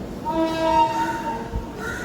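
The Kerala Express rumbles steadily into a station with a sustained tonal horn-like drone, while a crow caws faintly in the background.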